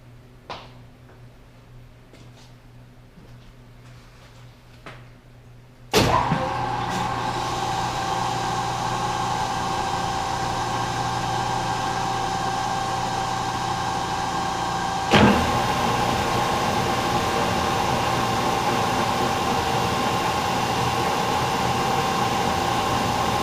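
A metalworking machine running at 216 RPM, steady and loud once it starts with a sharp onset, holding a dense continuous grinding drone with a second jolt partway through, after a quieter stretch of faint clicks.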